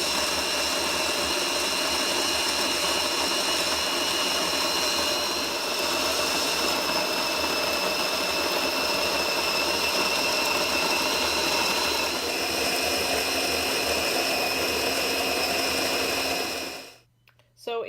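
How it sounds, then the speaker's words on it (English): An OXO conical burr coffee grinder with a built-in scale grinds coffee beans in a loud, steady, close whir that runs unbroken for about sixteen seconds and then cuts off abruptly. "This conical coffee grinder also has a built-in scale"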